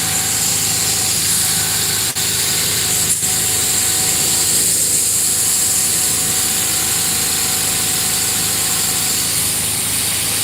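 A steady engine drones throughout, a tractor pulling a seed drill planting wheat at constant load with faint mechanical rattle, no voices, and a couple of brief clicks partway.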